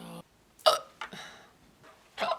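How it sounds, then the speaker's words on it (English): Human hiccups come in three sharp, separate bursts spaced about three-quarters of a second apart, close to the microphone, with nothing else heard between them. "Once my hiccups go away, we can start."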